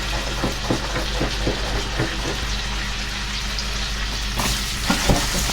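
Butter with thyme and dry sage sizzles steadily in a pan, a dense, close crackling hiss that holds through the whole stretch, with faint stirring knocks and no talking.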